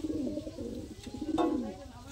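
Madras racing pigeon, a tournament flyer, cooing in soft low throaty bursts close by, with a louder coo near the end against faint background noise.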